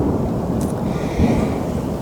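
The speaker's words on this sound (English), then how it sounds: "Listen to that thunder." Thunder rolls outdoors at dusk as a low, continuous rumble that swells briefly near the middle, with no voices.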